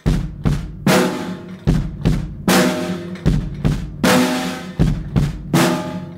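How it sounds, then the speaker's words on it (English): A drum beat repeating a steady stomp-stomp-clap pattern, two low kick thuds followed by a sharp snare crack, looping about four times with no voices. "We're gonna play 2 kicks and 1 snare."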